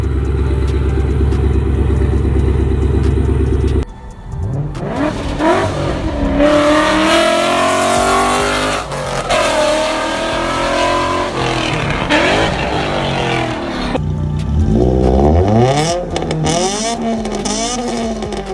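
Several cars with freshly fitted aftermarket exhausts, among them a Camry, a Focus SVT and vehicles with 5.0 and 3.7 engines, rev loudly and repeatedly up close, engine pitch rising and falling in sustained bursts with no talk over it.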